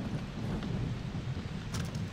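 Rain and thunder in the video game Far Cry 3, with a steady hiss of rainfall over low rumbling, heard alone for a couple of seconds.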